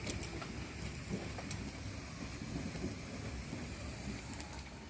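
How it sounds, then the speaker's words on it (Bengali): Steady rain pours down throughout, with soft rumbles of thunder rolling underneath and a few sharper crackles on a dark, overcast afternoon; no voices are heard. "আর প্রচুর মেঘ ডাকছে"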